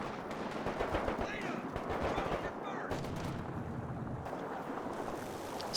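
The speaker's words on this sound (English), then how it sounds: "The land mattresses rockets kind of drowning out the noise of the Werfer's rockets." Rocket barrage from Werfer and Land Mattress launchers in Company of Heroes 2, a dense, continuous rumble of launches and impacts layered over battlefield noise for several seconds, ending in a sharp crack.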